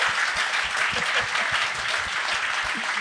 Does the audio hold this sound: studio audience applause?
yes